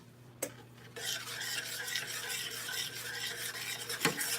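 A spoon stirring sugar into coconut cream pie filling in a bowl, a close, continuous scraping swirl with a tap at the start and a sharp knock near the end, no voices.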